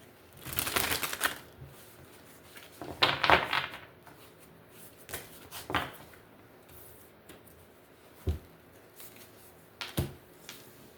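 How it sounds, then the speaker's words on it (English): Playing cards shuffled in a tarot-style reading session: several short papery riffling bursts with quiet gaps, clearest near the start and middle, then softer single snaps and taps later on. "Let's shuffle."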